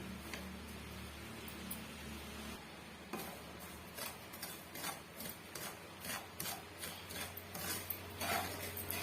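Semolina (rava) dry-roasts in a pan over a medium flame for rava kesari while a spoon stirs it, making quiet, irregular clicks and scraping taps against the metal.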